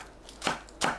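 Knife cutting onion into 0.5 cm slices on a cutting board while preparing a zucchini side dish, heard as two distinct, close chopping strikes about a third of a second apart.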